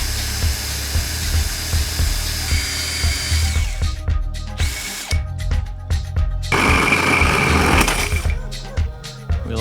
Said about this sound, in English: then we're gonna drill this hole tonight